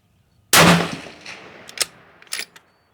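A single sharp, loud rifle shot from a Howa 1500 in 6.5 Creedmoor fitted with a muzzle brake, fired under a canopy, with a hard blast followed by a short echoing decay and a couple of fainter reports.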